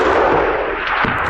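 A single loud gunshot blast rings out close by during a hunt, a dense booming crack that fills the short moment without any talk.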